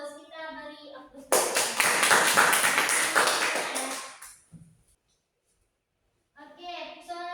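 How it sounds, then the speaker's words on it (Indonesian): A classroom of children clapping in applause, a dense burst of hands lasting about three seconds and then fading out, with a teacher's voice speaking before and after. "Kita beri aplaus."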